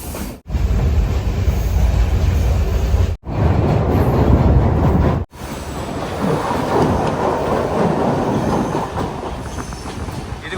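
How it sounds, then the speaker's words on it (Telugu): Train rolling past along the seaside in Sri Lanka, a loud, close rumble with clacking wheels and rattling carriages that cuts out briefly a few times, then continues as a steadier rushing roar. "ఇదిగోండి ట్రైన్ వెళ్తుంది"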